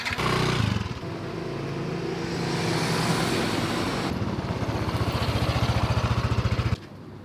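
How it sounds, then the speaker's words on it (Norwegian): On a street in Bali, a car approaches while a scooter is moved aside, a steady engine drone and road rumble building up, then a close, rapid puttering engine dominating near the end before stopping abruptly. "nå må jeg flytte scooteren, for nå kommer det en bil"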